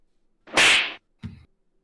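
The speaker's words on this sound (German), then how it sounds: "Da hat jemand in die Hände geklatscht" A loud, sharp hand clap with a short noisy tail rings out alone, followed a moment later by a second softer, duller clap, with silence around both.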